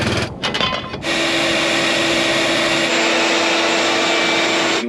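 A steady, loud vacuum drone runs almost continuously after a second of clattering bursts, pulling lint buildup from a dryer vent during a dryer vent cleaning, with no talking over it.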